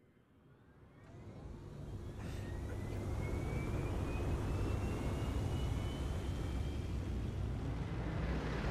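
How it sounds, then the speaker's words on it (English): Airplane flying over in the racing game Forza Horizon 5, a rising engine roar that swells over the first few seconds and then holds steady and loud, with a faint whining tone sliding across it. "Oh no, that's an airplane."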